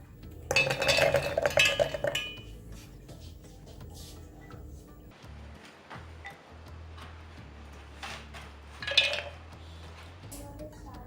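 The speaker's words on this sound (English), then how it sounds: "We are going to pour in our almonds." Almonds poured into a mixer jar, a rattling cascade of hard nuts hitting the container for about two seconds, then quiet clinks and a second short rattle near the end, close with no talk.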